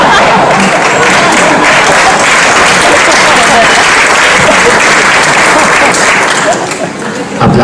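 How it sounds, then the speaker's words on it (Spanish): A seminar audience breaks into loud, dense applause that holds steady for several seconds before easing slightly near the end, with a hint of voices mixed into the crowd noise. "Aplaudan todos, por favor."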